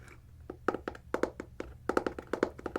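Fingers tapping on a book cover in a quiet room, a close, crisp run of hollow knocks that starts sparse and grows into quicker clustered taps, with no voice.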